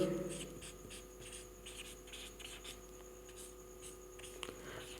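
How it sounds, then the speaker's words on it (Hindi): Chalk or marker scratches across a classroom board as a Hindi maths lesson on trigonometry and the Pythagoras theorem is written out, a close run of short rhythmic strokes with no talk over them. "तो यहाँ पे लिखेंगे हम लोग पाइथागोरस"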